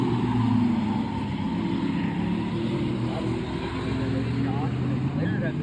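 Stock cars racing at Riverhead Raceway, a steady loud roar of engines droning continuously with shifting pitch as the pack circles, crowd and track ambience mixed in, and a commentator's voice faintly over it.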